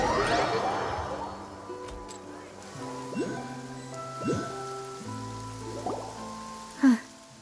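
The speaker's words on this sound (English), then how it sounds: "It's been raining non-stop for a few days now." Steady rain in the video game Genshin Impact hisses softly and continuously beneath a gentle musical score, with a brief sharper splash near the end.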